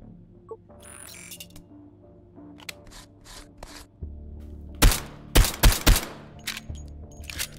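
Pistol shots in the modded VR shooter H3VR Take & Hold, four or five sharp, loud cracks in quick succession after quieter handling clicks and rattles.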